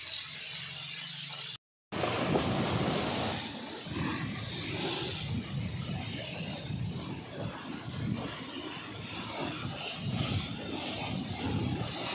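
Sea waves at a beach, a broad continuous wash of surf with rolling surges, fairly close and steady after a brief cut near the start, no talking.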